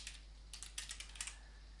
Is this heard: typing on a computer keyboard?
yes